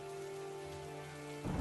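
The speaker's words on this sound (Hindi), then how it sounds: "बाहर बारिश तब तक थोड़ी थम गई थी" Rain falls outside at night, a soft, even patter layered with a low sustained drone, ending in a brief louder burst.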